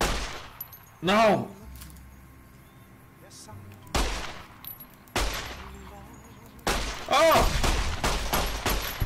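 Gunfire from the video game Fallout bursts out in several loud, sharp volleys separated by quieter gaps, with a player shouting short exclamations between the shots.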